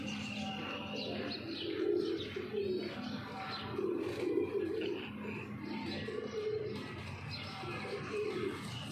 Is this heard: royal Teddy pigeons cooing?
yes